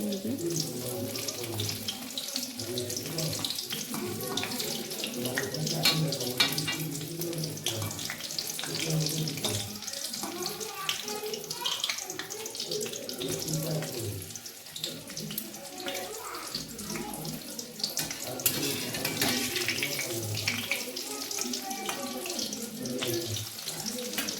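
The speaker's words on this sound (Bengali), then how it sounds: "তিনটে তিনটে করে আমি ভেজে নিচ্ছি" Chicken kebabs fry three at a time in a pan, giving a steady, dense sizzle that runs unbroken at a moderate level close by.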